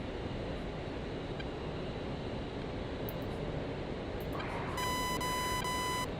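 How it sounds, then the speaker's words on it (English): A steady electronic warning tone, a DCS flight simulator's maneuver tone, sounds near the end over constant rushing noise, with a few faint short beeps before it. "that's your maneuver tone. If you're slow, it'll start with a solid beep"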